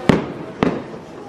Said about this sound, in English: See, may pa fireworks sila dito.